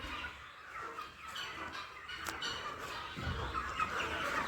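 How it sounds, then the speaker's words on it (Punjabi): Chickens cluck and squawk at close range while they are given feed in the evening, with scattered calls over a rustling background that grows louder toward the end. "ਰਾਜਿੰਦਰ ਪਾ ਰਹੇ ਆ ਫੀਡ ਮੁਰਗਿਆਂ ਨੂੰ ਸ਼ਾਮ ਦੇ ਖਾਣਾ ਦਾ ਪ੍ਰਬੰਧ ਕਰ ਰਹੇ"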